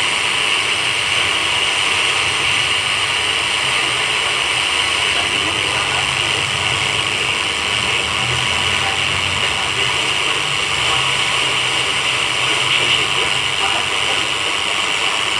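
Weak FM radio reception through a low-cost booster, a steady wash of hiss and static with a faint murmur of a broadcast buried under it, continuous and fairly loud throughout.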